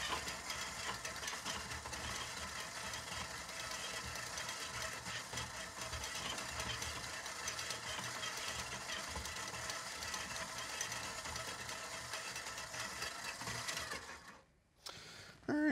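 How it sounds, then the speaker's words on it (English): Steady whirring drone of an electric mixer at medium speed beating fat to break it down, running continuously and fairly loud before cutting off near the end. "I'm now going to mix my fat just to get it broken down a bit, using about a medium speed on my mixer."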